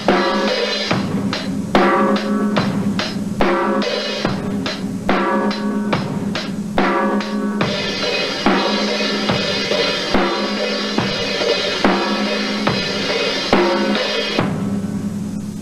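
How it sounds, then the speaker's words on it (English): A loud, steady rock drum groove with a driving hi-hat, punchy kick and snare hits, repeating for a long stretch with no talking. "Loosen up on the hi-hat a little bit too, make it sound fuller."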